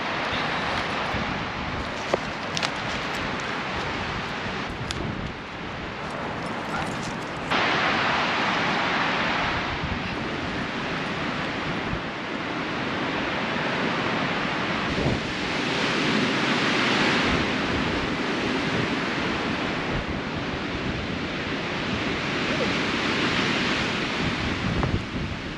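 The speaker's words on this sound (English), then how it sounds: "Holy moly, it's windy." Strong, cold wind roars steadily and loudly across the microphone outdoors during a truck camper road trip, a continuous rushing noise with gusts and no talking.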